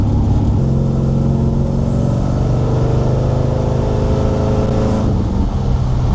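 A 1951 Ford Custom or 1956 Chevy Bel Air engine pulls hard on a cold road test, a loud, continuous low rumble from inside the car that holds steady, then shifts pitch near the end.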